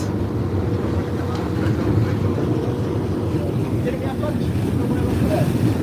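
A ferry crossing the harbour to Manly Beach, its engine droning steadily under loud rushing wind buffeting the microphone and the wash of water along the hull, constant and close.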